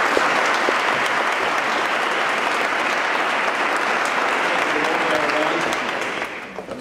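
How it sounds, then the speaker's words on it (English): A large summit audience applauds the Winston-Salem mayor at the 2012 Livable Communities Summit, with a dense, steady wash of clapping that holds loud for about six seconds before thinning out at the end. "big round of applause for the City of Winston-Salem Mayor"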